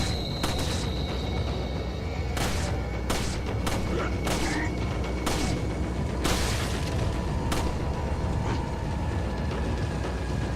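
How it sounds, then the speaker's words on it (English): Repeated gunshots in Resident Evil 4, sharp loud bangs spaced irregularly over a constant background of game noise and mechanical clatter. "Here I am being bad at shooting."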